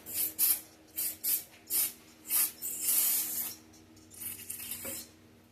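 Aerosol cleaner sprayed onto distributor and pickup coil parts of a K1500 pickup, a series of short, close hissing bursts with brief pauses between them, then a longer spray near the end.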